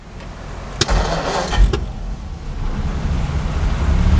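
A 1948 Ford Super Deluxe Coupe's flathead engine cranks for about a second, catches, and settles into a low, steady idle.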